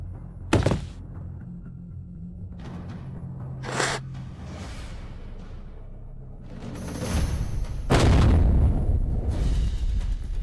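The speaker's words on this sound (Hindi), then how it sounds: "क्या हुआ? धमाका कैसे हुआ?" Heavy booming impacts from an explosion during a fight scene, with sharp blasts early on and a louder, longer rumbling burst near the end over a low, noisy background.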